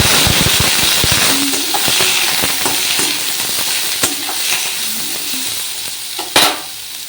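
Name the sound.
eggplant pieces frying and sizzling in a pan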